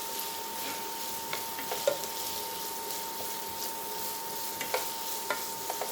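Onions and carrots for beef burgundy sizzle steadily in a hot pan, a continuous frying hiss broken by a few soft clicks and scrapes of stirring.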